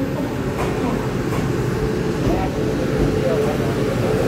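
Train 8107, an E307 electric locomotive hauling passenger cars on the Yilan line, rolls through Ruifang station with a loud, steady rumble and rhythmic wheel clatter, close by.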